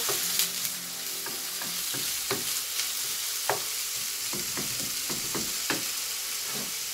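Minced meat sizzling in a pan as it is stirred, a steady close frying hiss broken by scattered scraping clicks from the spoon, with no voices.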